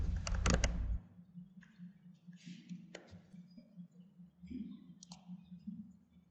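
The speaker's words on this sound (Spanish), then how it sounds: "vamos a utilizar teclado" Typing on a computer keyboard while working in SQL Server Denali: scattered light clicks and taps, some in quick bursts, over a low steady hum with quiet gaps between keystrokes.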